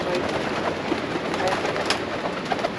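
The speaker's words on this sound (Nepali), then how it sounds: "आज परेवा लास्टै हङ्ग्री छ" Hungry pigeons coo softly and repeatedly nearby, low murmuring calls over a light background hiss on a rainy day.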